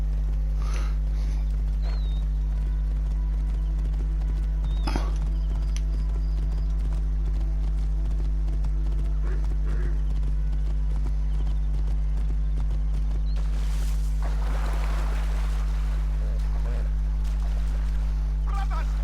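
A horse in the Assassin's Creed Origins video game, with steady clip-clop hoofbeats over a loud constant low hum, a brief neigh-like burst toward the end, and a voice heard faintly.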